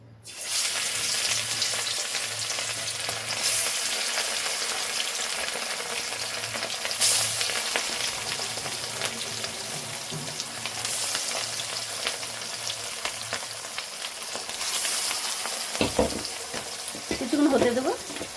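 Katla fish pieces rubbed with salt and turmeric fry in a pan of hot oil, giving a loud, continuous sizzle with a few brief clatters near the end.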